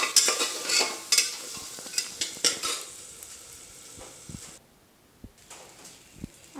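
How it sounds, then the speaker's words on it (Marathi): Rice being stirred and mixed in a pot, with a run of close scraping and clinking strokes over a soft sizzle, then a brief quiet stretch and a few sparse knocks, with no speech. "व्यवस्थित मिक्स करून घ्यायचं आणि लगेच तांदूळ टाकायचे"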